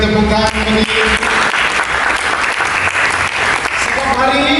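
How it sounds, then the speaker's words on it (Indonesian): Church congregation applauding during a sermon, a loud, dense wall of clapping that runs steadily throughout, with crowd voices and a speaker's voice mixed in. "Mari kita berikan tepuk tangan."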